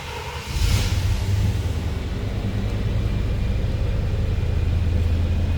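1987 Chevrolet K10 Custom Deluxe with a throttle body engine cold-starting, a brief crank then catching into a loud, steady low rumbling idle that continues to the end.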